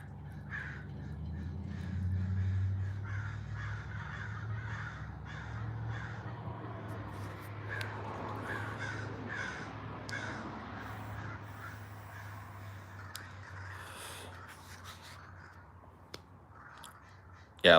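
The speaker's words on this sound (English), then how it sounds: "Listen to the crows." Crows caw repeatedly in the distance over a low rumbling background, with a faint murmur and occasional clicks nearby.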